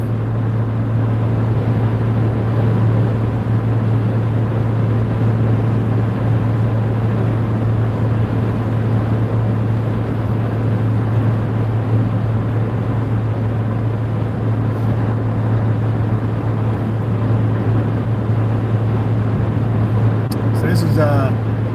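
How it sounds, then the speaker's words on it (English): A car cruising north on the highway between Carson City and Reno, a steady loud engine drone and road rumble holding constant from inside the cabin, with a brief rattle near the end. "This is driving north between Carson and Reno, if anybody's wondering."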